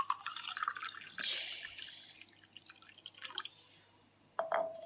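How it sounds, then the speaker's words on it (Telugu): Prepared juice poured into a hibiscus flower sherbet: close liquid splashing and trickling, with drips and a brief glassy clink, the pour tapering off before a final splash. "ఇప్పుడు మనం చేసి పెట్టుకున్న ఈ జ్యూస్ని కూడా వేసుకుందాం"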